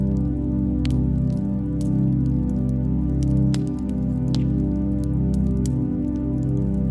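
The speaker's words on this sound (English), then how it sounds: "Rain drips from pine needles as you step into a forest older than memory." Rain drips from pine needles in an old forest, scattered soft taps and drops landing at an uneven pace over a dense, steady low hum of rainfall.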